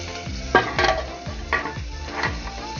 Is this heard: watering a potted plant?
no